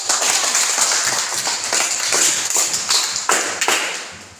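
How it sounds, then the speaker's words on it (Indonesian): Students clap in a classroom, a burst of close, sharp hand claps filling the room with a few louder slaps toward the end. "Tepuk tangan."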